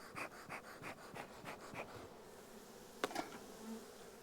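Honeybees in a hive being rearranged with 10-frame medium boxes, buzzing and humming in short pulsing bursts at close range, with a few sharp knocks near the end.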